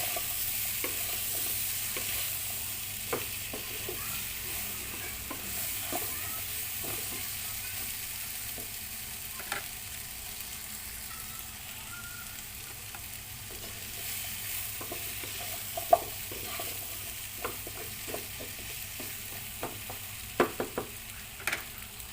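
A low, steady sizzle runs throughout as ingredients are sautéed in a pan for Filipino pork and mung bean stew, dotted with faint spatula scrapes and a few sharper clicks later on, with no voices.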